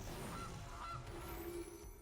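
Gilded Goose in Magic: The Gathering Arena gives a couple of short, honking goose calls over a steady game background, with no voices.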